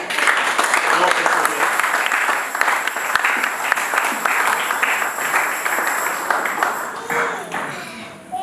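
A church congregation applauding during a service, broad sustained clapping from many hands filling the room, loud and steady before tapering off near the end, with a voice partly over it.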